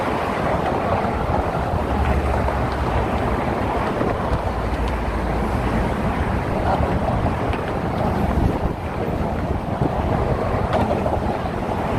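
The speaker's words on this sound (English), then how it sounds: "Finally, the wind is letting up a little bit." Strong, steady wind roars on the Golden Gate Bridge in San Francisco, a continuous loud buffeting rush of microphone wind noise with broadband gusting throughout and no speech.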